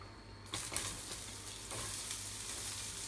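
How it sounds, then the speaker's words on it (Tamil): Onions sauté in a pan for a cauliflower dish at a Tamil New Year feast, sizzling steadily with a few soft stirring scrapes, close and fairly quiet, with no voices. "காலிஃப்ளவருக்கு வெங்காயம் வதங்கிட்டு இருக்கு"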